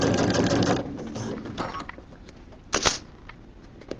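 A sewing machine stitches a project bag from the back of the machine. A loud, steady mechanical whirr runs for under a second, then fades to softer intermittent clicks and one brief burst.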